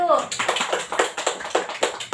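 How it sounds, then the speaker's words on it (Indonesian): Students clap in a classroom for the first discussion group, a ragged series of about eight sharp bursts of hand claps close by, with children's voices mixed in. "Tepuk tangan dulu untuk kelompok 1."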